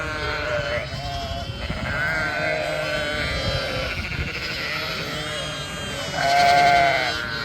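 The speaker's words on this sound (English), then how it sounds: "Another group of ewes." Ewes and lambs bleating in a farm group, several overlapping calls rising and falling throughout, with one louder, nearer bleat toward the end amid a general livestock commotion.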